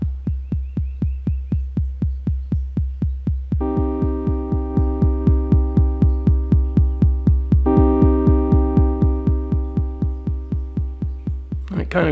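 An Elektron Model:Cycles groovebox pulses a steady, rapid low thump while a chord hits twice with a long sustained decay, loud and close, with no talking.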